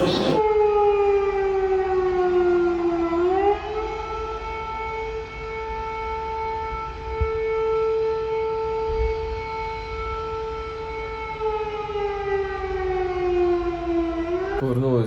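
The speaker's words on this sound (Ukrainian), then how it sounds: "в нас включили тривогу" Air raid siren sounding during an alert in Lviv, a loud sustained wail that dips in pitch, holds steady for a long stretch, then falls again near the end, with faint background noise underneath.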